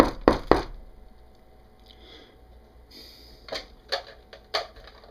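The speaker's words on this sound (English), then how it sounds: "I knock upon the phone again." Several sharp, close knocks on a telephone, a quick cluster at the start, then scattered hard taps and clicks against a quiet background.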